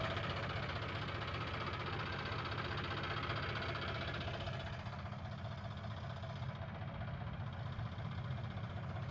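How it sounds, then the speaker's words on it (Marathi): An International tractor idles outdoors at night with a steady, continuous engine rumble and rhythmic knocking chug that holds at an even level throughout, with no voices. "चला आता आपला इंटरनॅशनल ट्रॅक्टर उतरून घेऊ आपण."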